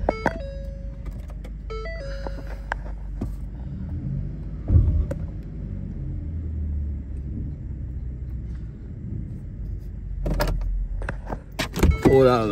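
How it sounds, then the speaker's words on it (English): A 2019 Ford F-150 XL with about 53,000 miles makes a cold start. Chiming warning tones come first, then a quick crank and the engine catching into a low, steady idle rumble, with a few clicks near the end. "give you a cold start."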